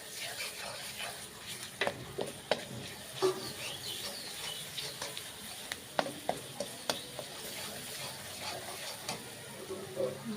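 Browned onions frying with ginger-garlic paste added, a quiet steady sizzle with frequent small clicks and scrapes of a spoon stirring in the pan.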